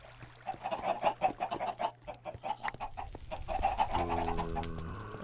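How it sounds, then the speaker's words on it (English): Chickens in a video game, repeated clucks and short squawks in a quick rhythm at moderate volume, with another tonal game sound entering near the end. "So many chickens."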